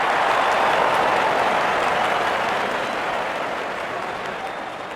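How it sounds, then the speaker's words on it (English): At a T20 World Cup cricket match between South Africa and West Indies, a big stadium crowd roars and applauds a six in a dense, continuous wash that slowly fades, with commentary faintly underneath. "The crowd is enjoying every bit of this action."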